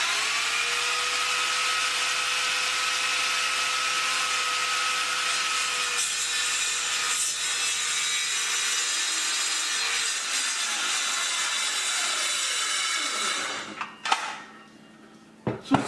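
Handsaw cutting through wood during a Thermador gas cooktop installation, a steady close rasping that runs about thirteen seconds before tapering off into a few short knocks and scrapes.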